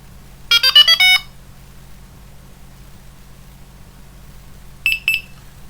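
A Delkim fishing bite alarm, just switched on, gives a rapid run of bright electronic pips, then after a pause another short pair of pips, close and clear over a low steady hum with no talking.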